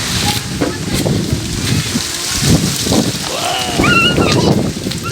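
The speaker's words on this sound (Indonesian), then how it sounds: "Anginnya keras sekali pemirsa." Strong gusty wind roars steadily against a microphone, with a loud broadband rush throughout and some voices speaking briefly partway through.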